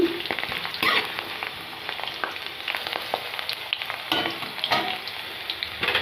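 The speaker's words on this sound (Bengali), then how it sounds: "আলুগুলোকে আমি একটু হালকা করে ফ্রাই করে নেব" Potatoes lightly frying in a pan for a bottle gourd curry: a steady, close sizzle of hot oil with intermittent scraping and stirring clicks, and no voices.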